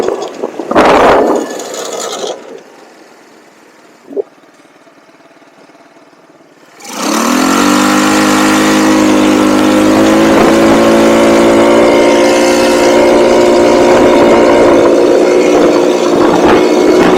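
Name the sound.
cheap buggy engine running and revving during a ride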